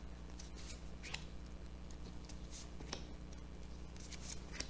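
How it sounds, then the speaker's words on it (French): Tarot cards drawn and laid down from a deck during a reading, heard as soft, crisp papery swipes and light taps scattered over a steady low hum, with no voices. "Allez, on va prendre 3 cartes."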